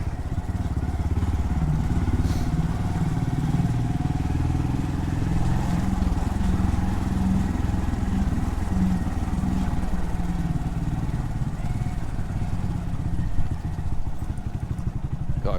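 A Honda motorcycle on a narrow country road near Appledore gives a continuous engine drone with exhaust rumble, close and loud, steady throughout with a slightly rough, clattering edge.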